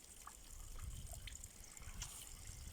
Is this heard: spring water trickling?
yes